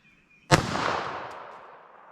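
A single sharp .380 ACP pistol shot with 90-grain PMC ammunition cracks outdoors at a range, loud and close, followed by a long fading echo.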